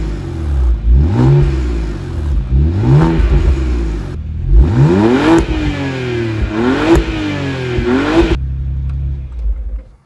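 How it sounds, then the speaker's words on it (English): A BMW E89 Z4 35i twin-turbo with a Remus catback exhaust revs hard at standstill, several rising blips that climb and fall back to idle, loud and close, before cutting off near the end. "All right, let's give it a few revs."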